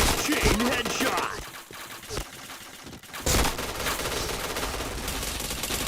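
Rapid bursts of P90 gunfire in a multiplayer shooter game, loud and dense, broken by a short lull and then resuming, with game effects and a voice talking over the action.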